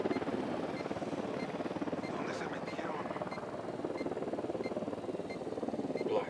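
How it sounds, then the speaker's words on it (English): In the Ghost Recon Wildlands video game, a helicopter approaches with a low, steady rotor thrum and engine drone, moderately faint, while voices talk over it. "Helicopter incoming."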